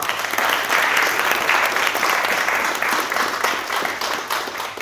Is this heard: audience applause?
yes